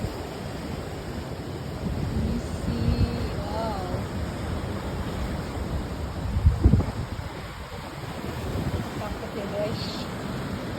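Sea waves wash onto an untouched white-sand beach with blue water, making a steady broad rush mixed with wind buffeting the microphone, while a person talks over it.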